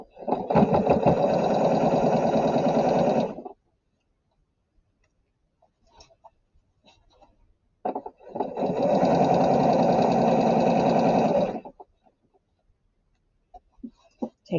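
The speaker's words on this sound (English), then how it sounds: "We are going to stitch in the same spot." Sewing machine stitching a narrow seam with a back tack while sewing a New Look 6764 garment, two loud steady buzzing runs of a few seconds each, separated by a quiet pause with faint handling noise.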